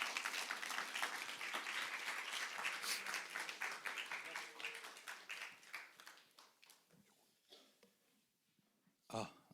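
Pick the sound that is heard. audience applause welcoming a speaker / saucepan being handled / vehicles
audience applause welcoming a speaker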